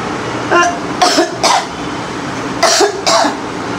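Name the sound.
coughing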